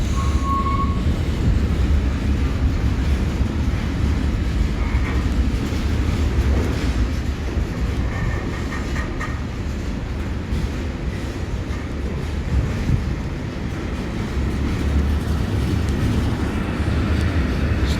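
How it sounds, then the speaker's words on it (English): A Network Rail locomotive hauls a train past the station at Newport on the South Wales Main Line, producing a continuous heavy rumble of engine and wheels with brief metallic squeals, loud and near throughout. "we have that Network Rail loco coming in"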